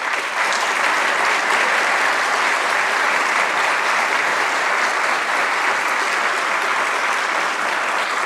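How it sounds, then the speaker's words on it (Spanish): Loud, dense applause fills a university graduation ceremony hall for new pharmacy and chemistry graduates in Chile, a continuous even roar of many hands clapping without pause. "a quienes elevamos un fuerte aplauso"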